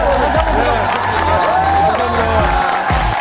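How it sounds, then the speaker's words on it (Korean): A Korean TV talk show studio audience claps and cheers with whoops and shouts, a loud continuous crowd roar with voices calling out over it. "박수 한번 보내드릴게요."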